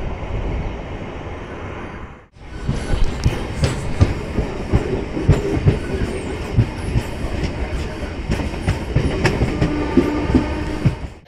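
After a brief quieter stretch, the Simhadri Express passenger train rumbles along loudly near Tanuku, its wheels clattering in a steady rhythm on the tracks.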